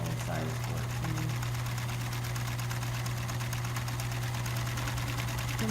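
Sewing machine stitching backpack straps with a universal size 14 needle, running in a steady continuous whir with a loud low hum throughout; a voice talks over it.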